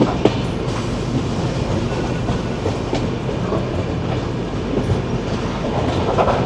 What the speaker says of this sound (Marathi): इथे ट्रॅक चेंज झाला बघा. अजून पण ट्रॅक चेंज, दुसऱ्या ट्रॅकवर अजून तिसऱ्या ट्रॅकवर येते.